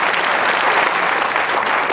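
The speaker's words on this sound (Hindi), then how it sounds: "एक बार जोरदार तालियों से आभार प्रकट करें" Loud, dense audience applause at a formal public event honouring a state governor, a continuous wash of many hands clapping at once with no break.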